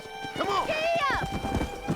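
Hoofbeats of a galloping horse in Red Dead Redemption patter quickly and close by under a voice, with a rising and falling whinny-like call in the middle.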